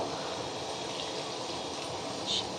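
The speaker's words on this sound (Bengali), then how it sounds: "একটু হালকা ঝোল দিয়ে দেব যাতে সেদ্ধ হয় ভালো করে সবজিগুলো" Broth poured into a pot of vegetable curry as it cooks, a soft continuous watery pour at low level with no talking.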